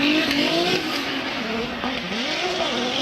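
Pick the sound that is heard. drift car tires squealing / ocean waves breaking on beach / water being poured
drift car tires squealing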